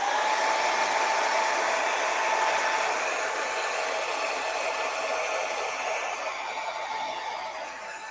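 A hair dryer blows steadily on a freshly painted canvas of pine trees under a harvest moon, making a loud, constant whooshing whir that fades slightly near the end, with no talking.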